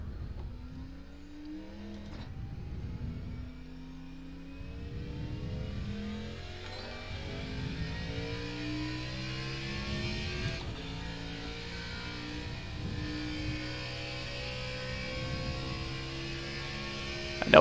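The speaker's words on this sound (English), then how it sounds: "We're going to hop in our car right here and go make a few laps and see how it all feels." Race car engine in the iRacing sim at Homestead Miami Speedway, a steady loud drone whose pitch climbs and falls repeatedly as the car shifts and accelerates, running continuously with no talk.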